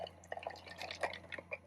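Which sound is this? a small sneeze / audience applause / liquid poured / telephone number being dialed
liquid poured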